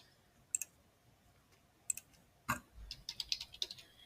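A computer mouse gives a few sharp, quiet clicks, two isolated ones early on and then a quick cluster of several clicks near the end, heard alone.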